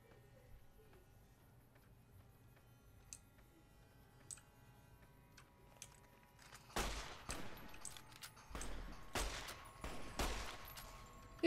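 Gunshots in Fallout: New Vegas, starting with faint, sparse clicks and pops, then sharp, loud bursts of gunfire in quick clusters through the second half.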